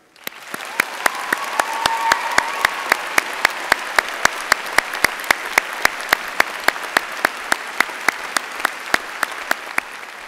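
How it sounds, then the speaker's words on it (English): A graduation ceremony crowd applauds the graduates: a dense, sustained wash of clapping holds steady for about ten seconds, with regular sharp, close claps from one nearby pair of hands standing out above the rest. "Please join me in a round of applause to all the graduates."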